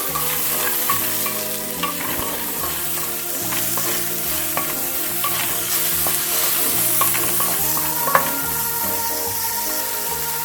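Ginger, garlic, tomato and masala fry in a pan under constant stirring, with a dense, steady sizzle, repeated spatula scrapes and one sharp clink near the end. The sound is close and loud, and no one speaks.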